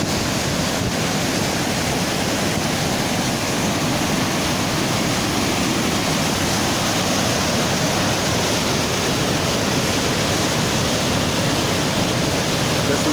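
The Aygır waterfall near Bozkır roars loud and close as a dense, unbroken rush of falling water that fills the whole stretch without letting up. There is no talking.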